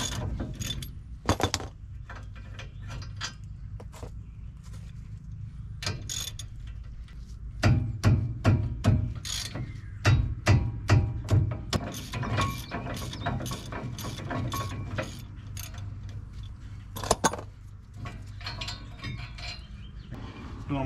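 Hand ratchet loosening brake caliper bolts on a Ford F-250 truck, with repeated quick clicking bursts and metallic clinks, fairly faint and close, over a steady background hum.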